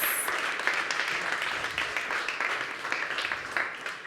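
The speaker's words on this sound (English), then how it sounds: "let's just give another round of applause for all of the Cinnovate startups" A pitch-session crowd applauds startups at a demo stage, a steady, dense wash of many hands clapping at an even level for the whole stretch.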